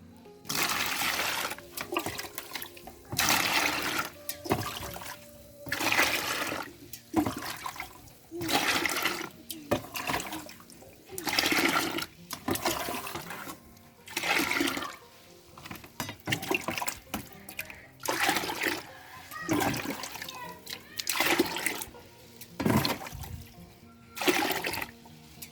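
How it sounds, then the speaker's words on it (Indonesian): Water poured and mixed with urea fertilizer at one part urea to ten parts water, heard as repeated splashing pours and sloshing spurts, each a few seconds long, close to the microphone. "saya akan campur dengan 10 bagian air ya"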